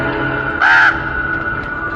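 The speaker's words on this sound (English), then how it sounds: "What's that bird doing now?" A crow gives a single loud caw, brief and close, over a steady tonal background hum.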